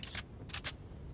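Weapon reload in Valorant, a quick sequence of sharp mechanical clicks and clacks: one snap near the start, then a close double click about half a second later, crisp against a low background hum.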